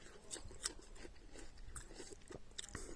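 A crisp, perfectly ripe pear from a Gran Canaria orchard is bitten and chewed up close, faint crunching bites and wet chewing in a quiet outdoor setting.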